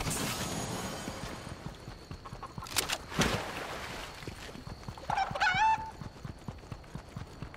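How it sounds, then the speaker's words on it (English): Chickens clucking in the video game Fortnite, short bursts of clucks and a squawk mixed with footsteps and game noise, fairly faint. "Oh, chickens."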